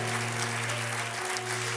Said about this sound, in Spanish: dele fuerte ese aplauso a Dios